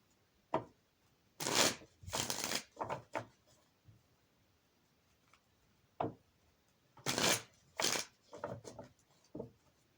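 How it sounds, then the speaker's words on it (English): A deck of tarot cards shuffled close by in irregular bursts, crisp riffling flurries separated by quieter pauses and small taps as the cards are squared. "we'll go ahead and shuffle these cards for the first week of April"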